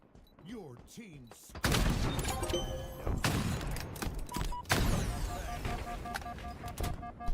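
A sniper rifle fires during a competitive Halo multiplayer match, with loud, sharp shots and heavy reports standing out from other in-game weapon and effect sounds.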